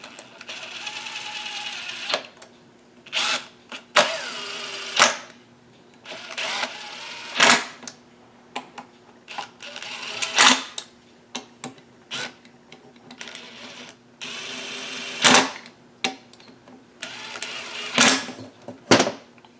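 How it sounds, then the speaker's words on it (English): Screws run down by hand on a crankcase puller fitted to a Husqvarna chainsaw, giving a series of short, close mechanical whirring bursts separated by brief pauses, with no talk. "So let's just run these screws right down."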